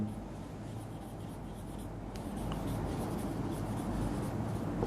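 Chalk or marker scratching steadily on a board as an equation is written during a physics lecture on simple machines, a continuous close writing sound over a low background hum.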